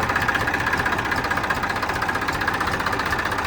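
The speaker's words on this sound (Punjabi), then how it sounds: "ਕਿੱਡਾ ਵੱਡਾ ਇੰਜਣ ਆ ਸਿਰਫ ਉਹ ਨਿਕ ਚੀਜ਼ ਨੇ ਸਟਾਰਟ ਕਰਤਾ ਇਹਨੂੰ" A large tractor engine, just started with a self-starter, runs steadily at a low, rumbling idle with a continuous mechanical throb, close and loud.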